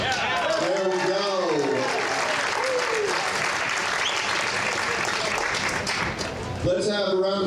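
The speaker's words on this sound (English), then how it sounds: "Let's have a round of applause again for the seniors and for these ceremonial first pitches today that were thrown." Crowd at a college baseball game against Hannibal-LaGrange applauding seniors and ceremonial first pitches, steady clapping and cheering beneath an announcer's voice heard at the start and end.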